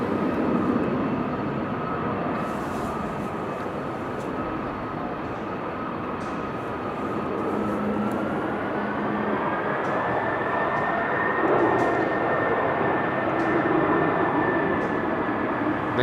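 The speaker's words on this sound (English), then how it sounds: "Next coming in, KLM flight 1650, arriving from Florence" A KLM airliner arrives at Amsterdam Schiphol Airport on a windy, showery day, a steady loud jet roar held throughout with a slowly shifting whine.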